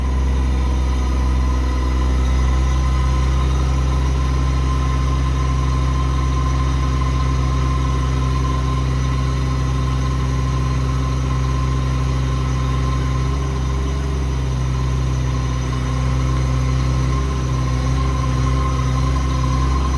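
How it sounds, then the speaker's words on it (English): A Palfinger 10,800 crane runs out on a 2015 Ford F750 truck with a Cummins engine, a loud, constant low engine drone and vibration that holds unchanged throughout. "Let me unhook this block and then we'll run the crane out"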